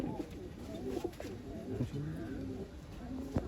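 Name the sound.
pigeons cooing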